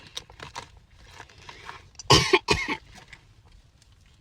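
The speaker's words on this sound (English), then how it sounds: "Why did I cough?" A couple of sharp coughs sound close by, preceded by some faint shuffling and throat noises, with no talking.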